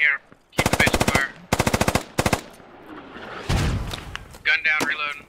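Gunfire in the military shooter Squad: loud, close bursts of rapid automatic fire separated by short pauses, followed by a heavy boom and scattered shots, with a voice talking briefly at the start and end.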